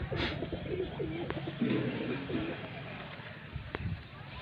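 Soft pigeon coos repeat in the background beneath steady chatter, with a brief sharp click near the end.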